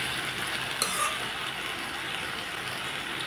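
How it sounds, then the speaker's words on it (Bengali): Tangra fish curry with vegetables sautés in a pan, a steady close sizzle with a couple of faint utensil clinks near the start. "ভালোভাবে কষিয়ে দেব"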